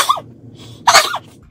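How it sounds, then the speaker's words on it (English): A single sharp sneeze bursts out after a brief earlier snort, loud and close, in an indoor room. "And my nostrils are clean now because I just sneezed."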